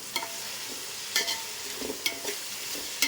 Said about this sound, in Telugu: అల్లం వెల్లుల్లి పేస్ట్ వేసానండి. ఇది బాగా ఫ్రై అవ్వనివ్వాలి.